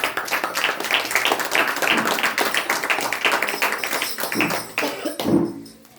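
A church congregation in Gottiwada village claps together at a prayer meeting, a dense, steady burst of many hands that runs for several seconds before thinning out and stopping near the end.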